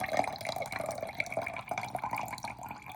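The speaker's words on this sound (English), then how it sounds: "Take that out, rinse it off." Organic tomatoes being rinsed under running tap water from a Kangen alkaline water unit, a steady close splashing and dripping stream over a sink with no talking.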